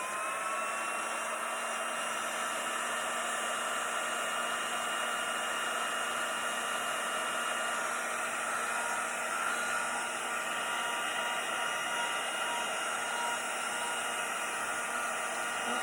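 A hair dryer blowing on a watercolor painting, a loud, continuous close whirring roar with a steady airy hiss, unchanging throughout.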